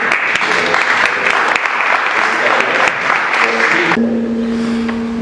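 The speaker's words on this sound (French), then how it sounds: "une petite main d'applaudissement" Loud, sustained applause from a seated audience at a launch ceremony with the Québec-Africa Chamber of Commerce, dense clapping for about four seconds before it fades under a steady hum.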